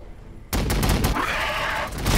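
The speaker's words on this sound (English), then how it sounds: "Another frag bombardment." Frag bombardment in Warhammer 40k Battle Sector: a sudden loud barrage of rapid explosive blasts and gunfire erupts after a quiet lead-in and rumbles on continuously.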